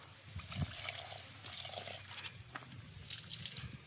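Water pours and trickles onto freshly sown maize seeds in a farm field, a quiet soft splashing and dribbling, faint and close with no talk.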